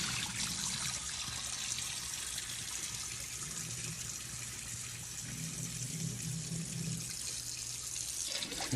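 Tap water runs steadily into a sink while rice is washed, a continuous broadband rush with a soft low gurgle underneath, close by and unbroken for the whole stretch, with no voices.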